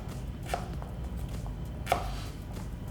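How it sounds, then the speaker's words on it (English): A knife chopping beetroot into small cubes, soft close chops spaced irregularly with a couple of sharper knocks against the board, over a low background hum. "now I'm going to make little beetroot cubes"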